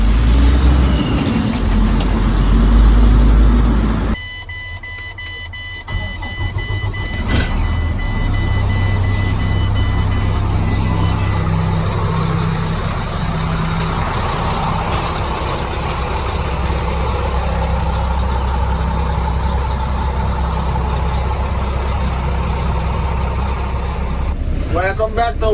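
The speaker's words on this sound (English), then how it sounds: "then a truck drives away." A truck engine idles loudly nearby, then rumbles steadily as the vehicle moves off, with a faint intermittent beeping and some clanking.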